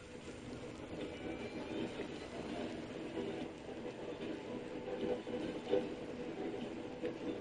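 A train rolls along rails in the game Tradewinds RPG: a continuous mechanical rumble with faint rattling and clacking, moderately distant and steady throughout, with no speech.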